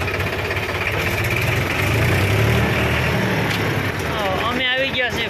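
A tractor engine runs steadily close by, a low rumbling idle with a faint knocking pulse, while people talk over it.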